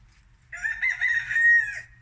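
A single rooster crows once, a loud, close, drawn-out call lasting over a second against a quiet background.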